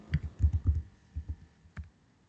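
Keys tap on a computer keyboard in quick soft clusters, a handful of close, quiet keystrokes with brief pauses between bursts and no talking.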